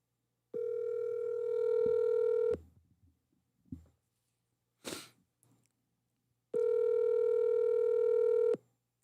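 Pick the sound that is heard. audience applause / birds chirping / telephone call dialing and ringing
telephone call dialing and ringing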